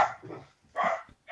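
A dog barks indoors in a few loud, close bursts separated by short pauses, with no talk over it.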